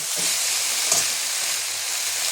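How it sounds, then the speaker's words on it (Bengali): Vegetables being sautéed in a pan for shrimp shukto, a Bengali dish, give a steady, close broadband sizzle with a faint scrape of stirring partway through and no talking. "সবজিটা আমি সুন্দর সাঁতলে নিয়েছি, মশলাটা পুরো মিশে গেছে"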